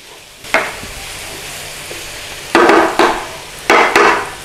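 Minced garlic stirred into onions and butter in a pan for a tourtiere filling: a continuous sizzle, broken by three loud scraping stirs of a utensil against the pan.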